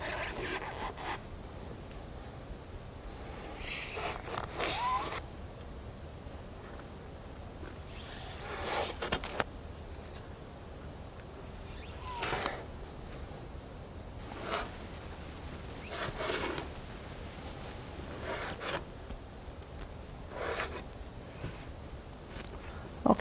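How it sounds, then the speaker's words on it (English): A sponge is cut into small pieces, with quiet, intermittent bursts of rasping, scratchy cutting every few seconds over a soft background hiss and no talking. "we'll keep cutting the sponge up until it's small pieces"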